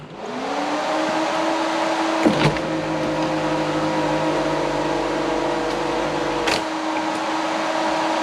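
A 1986 Chevrolet Monte Carlo's sunroof motor opens with a steady mechanical whir over the constant roar of the radiator fan, with two brief clunks during the run; no one speaks.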